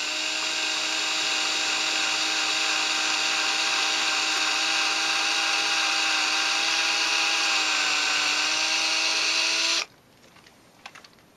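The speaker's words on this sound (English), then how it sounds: "I'm going to start by drilling a hole in my landscape here." A power drill whines at a steady high pitch for about ten seconds, then stops abruptly, leaving faint clicks and near silence.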